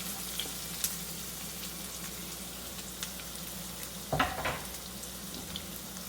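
Onions and potatoes fry in a pan with a steady low sizzle, broken near the end by a brief louder clatter as the food is moved.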